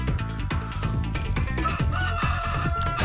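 Chickens cluck and a rooster crows in 7 Days to Die (alpha 19.6, Ravenhearst mod), heard loud against steady game music and sound effects with a rhythmic low beat.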